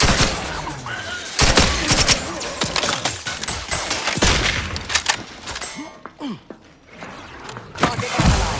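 Rapid bursts of gunfire from a sci-fi shooter, The Outer Worlds 2, crack out in dense, repeated volleys with sharp impacts, loud and close, with brief pauses between strings of shots.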